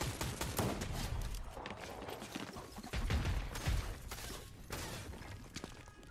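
Sniper gunfire in a video game, heard as a rapid series of sharp, distinct shots and impacts over a low background, moderately loud and irregularly spaced.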